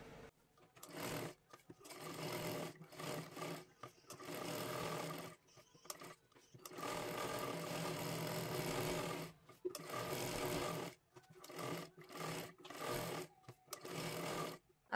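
A sewing machine stitching a young girl's lehenga dress runs in short repeated bursts of rapid whirring, separated by brief pauses, fairly close and alone.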